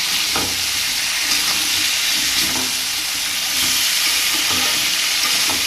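Salted mixed vegetables for khichuri sizzle and hiss steadily in a hot pan as they are stir-fried, with soft scraping stirs throughout and no talking.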